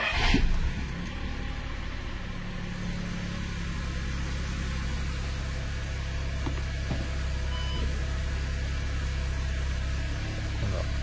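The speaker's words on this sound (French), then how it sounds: "Quand on démarre la voiture" Volkswagen car engine turning over and settling into a quiet, steady idle, a low continuous hum heard from inside the car with a brief louder burst at the very start.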